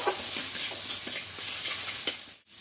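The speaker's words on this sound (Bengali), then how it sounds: "খুব ভালো করে মশলাটা কষিয়ে নেব" Spice masala with salt and a little sugar fried and stirred in a pan for a fish-head kalia, a continuous close sizzle with rhythmic scraping strokes, briefly dipping near the end.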